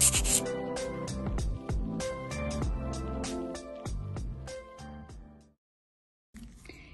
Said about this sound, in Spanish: Voy a limar un poquito más para rebajar.